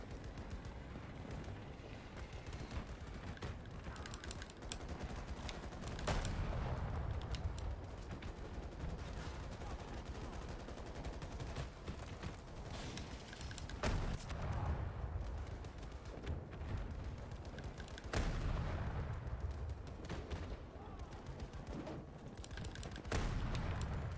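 Video game gunfire rattles in dense sustained bursts, with loud heavy volleys swelling at intervals over a constant noisy battle din; no speech is heard.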